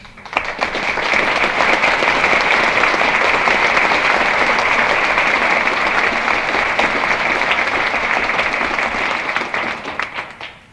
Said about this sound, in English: Leif Harbo, will you please stand and receive the applause of this group?